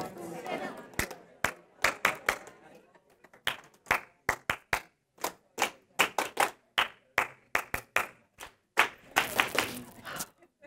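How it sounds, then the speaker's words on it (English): A classroom-style audience answers with a loose call-and-response clap: sharp, distinct hand claps in irregular clusters across the room, building to a denser burst near the end, with murmured chatter between. "Do I need to clap?"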